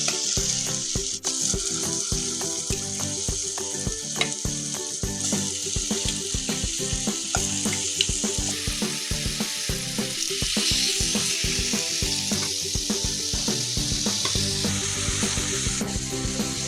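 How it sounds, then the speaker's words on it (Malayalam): Chicken pieces frying in a hot pan, giving a loud, dense, continuous sizzle with crackles and occasional stirring clatter, close up, with no one talking. "ഇതിലേക്ക് ചിക്കൻ ഇട്ട് കൊടുക്കുകയാണ്"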